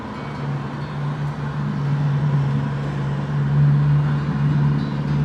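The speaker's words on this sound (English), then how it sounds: "Now you'll be hearing all the noise, traffic noise from outside." Steady traffic noise from outside drifting in through two open front windows of a room, a continuous low rumble with a constant hum, fairly loud and unbroken, with no voices.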